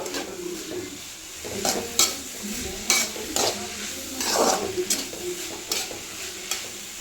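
Mixed vegetables for a village-style palya fry in a pan, with a spatula scraping and stirring in repeated loud strokes over a continuous sizzle.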